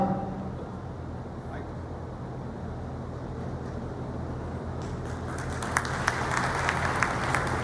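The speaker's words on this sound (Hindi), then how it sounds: "खूब जम के ताली बजाइए।" Clapping from a crowd at a speech event in Gwalior swells in the final seconds over a low, steady rumble of background noise, with a few sharper claps standing out near the close.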